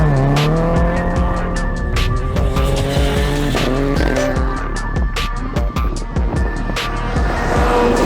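Rally car at full throttle on the sandy gravel stages of the Oregon Trail Rally, engine screaming loud and close through repeated gear changes, with tire squeal and skidding.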